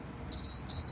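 A kitchen timer alarm beeps in short high-pitched bursts, two brief electronic rings over a quiet background with no talking.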